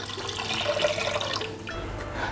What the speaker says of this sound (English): And now we'll just add the water